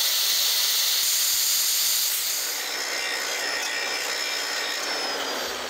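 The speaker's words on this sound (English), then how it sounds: "cut out the cups for the bump stops and grind them down" Grinding down the metal bump stop cups on the frame of a 1999 Chevy Silverado during a lift kit install, a harsh, continuous high hiss of the grinder against steel that stays loud and steady for several seconds.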